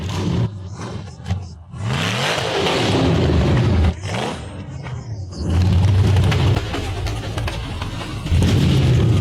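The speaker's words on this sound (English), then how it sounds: "Two buggies charged one after the other, accelerating hard to conquer the steep dirt hill." Off-road buggies accelerate hard one after another up a steep dirt hill at a 4x4 hill climb, engines roaring loud and near with surging revs, a brief lull, then a second rising roar.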